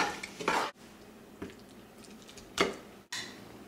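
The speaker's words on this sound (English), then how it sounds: "So you want to mix up the chunky part with the squishy part" Chunky and blended homemade applesauce being stirred together in a pot, giving soft scraping and clinking of a spoon against the pot in a few brief bursts, close and fairly quiet.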